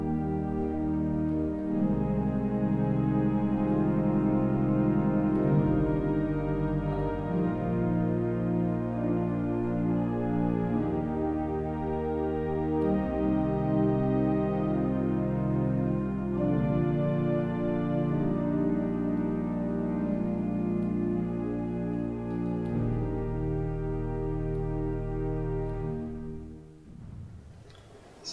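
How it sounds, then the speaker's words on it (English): Celeste stops on the pipe organ of the Singapore Esplanade hold slow, sustained chords with a gentle wavering shimmer from slightly detuned ranks, playing loud and full on their own before dying away at the end. "Also some beautiful celeste stops, undulating stops, where one stop is a bit sharper than the other."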